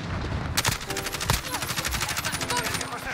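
Rapid automatic gunfire in the video game Modern Warfare, dense bursts of repeated shots with a couple of louder cracks, continuous and loud, while a voice talks over it.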